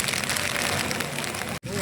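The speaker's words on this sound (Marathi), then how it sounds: "भयानक पाऊस आहे, छत्री काही राहत नाही आहे." Very heavy monsoon downpour near Bhimashankar, too strong for an umbrella: a loud, dense, steady roar of rain close by, broken only by a momentary dropout near the end.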